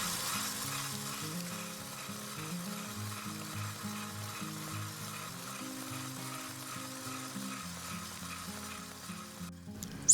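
An electric mixer beats eggs and sugar with a steady whirring hum and a soft churning wash, running continuously at moderate volume with small shifts in motor pitch.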